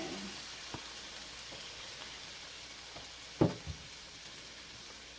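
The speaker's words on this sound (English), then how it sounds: "you want to keep an eye on your shrimp while you're frying them" Shrimp sizzle quietly in hot oil in a pot with a constant soft crackle, broken by a few sharp pops and a clink near the end.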